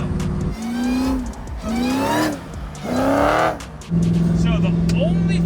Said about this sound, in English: it whines so good. Usually that's a bad thing, but it's all blower.